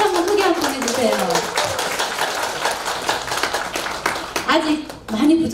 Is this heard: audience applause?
yes